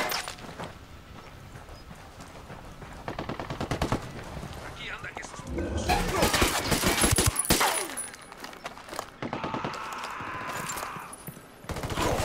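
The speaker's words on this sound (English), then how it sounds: "the rebels trading shots with the cartel" Gunfire from a firefight between rebels and a cartel in Ghost Recon Wildlands: bursts of rapid shots and sharp cracks come in waves, loud and close at times, with a mix of game sounds around them.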